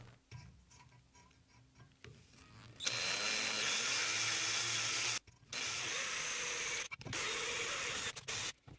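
A battery power drill whirs loudly in several bursts with brief pauses between, drilling holes in hinges for a mini metal brake, preceded by quieter ticking and clicking sounds.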